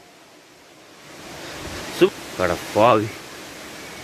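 A 300-foot-high waterfall, Agaya Gangai, gives a steady, hissing roar heard from a distance. Brief voices cut in near the end.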